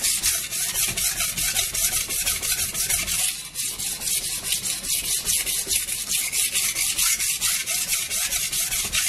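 A stainless steel knife drawn repeatedly across a coarse whetstone, a steady close rhythmic scraping of rapid even strokes with only a brief dip partway through.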